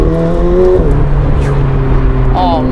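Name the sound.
McLaren 765LT Spider with Novitec exhaust driving over bumps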